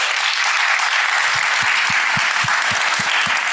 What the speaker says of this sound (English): applaud our speakers.